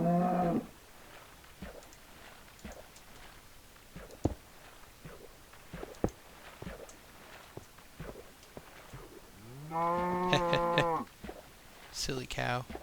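Minecraft cows moo twice, one short low call at the start and a longer drawn-out moo near the end, with soft footstep thuds and faint clicks between them.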